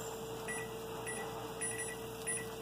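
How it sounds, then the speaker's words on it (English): A kitchen timer set during corn canning gives several short, quiet electronic beeps in an irregular sequence over a faint steady hum. "I'm going to set the timer now for 5 minutes"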